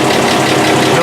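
Car engine idling steadily just after start-up, a loud, continuous rumble filling the whole moment with no break.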